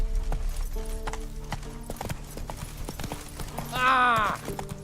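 Roach, a horse in The Witcher 3 video game, clip-clops at a steady walking rhythm close by, with a loud whinny near the end and game voices speaking over the hoofbeats.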